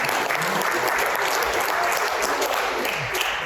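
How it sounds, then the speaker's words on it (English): A round of applause from a conference audience at a digital assets panel, dense continuous clapping holding steady at full strength for the whole stretch. "if you could also get a round of applause again."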